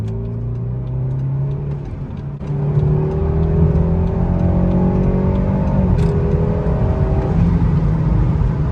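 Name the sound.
tuned BMW B48 4-cylinder car accelerating on highway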